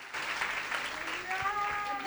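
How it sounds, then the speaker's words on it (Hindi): A church congregation claps in applause at a testimony service, with a burst of clapping heard under a voice speaking over it. "जोरदार तालियां बजाएं खुदावंद यीशु के जलाल के लिए"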